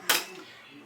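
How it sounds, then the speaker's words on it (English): A metal spoon knocks against a bowl as a small spoon is swapped for a big one: one sharp, close clink that fades quickly, then a faint tap at the very end. "Now we'll get rid of this little spoon, put the big spoon in."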